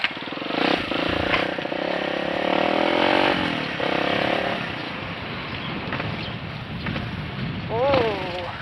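A Kawasaki D-Tracker 150 motorcycle on a test ride, its engine droning steadily and rising and falling with throttle under wind rush, with a short rev near the end and a voice briefly speaking.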